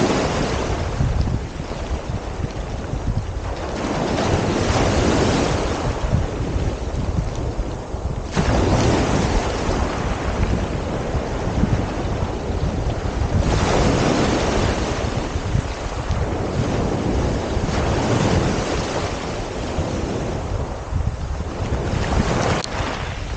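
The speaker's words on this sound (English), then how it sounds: "The tide's coming in quite quickly now." Waves and strong wind on the shingle shore at Dungeness as the tide comes in, a loud continuous roar of surf with gusty wind buffeting the microphone.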